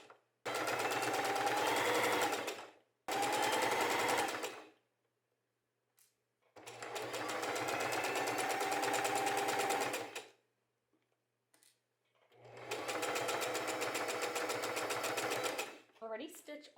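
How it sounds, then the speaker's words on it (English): Sewing machine stitching darts into the front of a summer dress and its lining, running in three long steady bursts with short pauses between, loud and close, with no talk. "I'm going to take that to the machine and stitch my darts in it"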